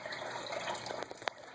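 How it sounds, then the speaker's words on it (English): Water gurgling inside a chicken coop watering system that holds about 8 gallons; a faint, soft trickling and bubbling with a few small glugs and drips near the end, alone and quiet. "You can kind of hear it gurgling there."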